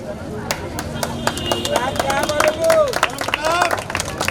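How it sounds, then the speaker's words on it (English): Audience at a National Sports Day ceremony claps for a medal felicitation on the podium, scattered uneven clapping close by under a speaking announcer and crowd chatter. "The claps must go on."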